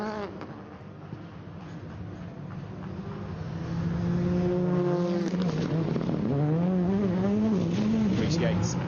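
A four-wheel-drive rally car accelerates through a tight donut and elongated hairpin on a night run at Goodwood SpeedWeek, its engine climbing in rising, wavering revs that grow louder, under a commentator's voice.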